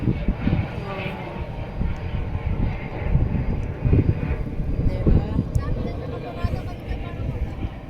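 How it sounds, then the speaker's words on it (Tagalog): An airplane taking off at an airport produces a fluctuating engine rumble and wind buffeting, heard with people talking over it. "kitang-kita natin ang paglipad. Ang paglipad ng eroplano."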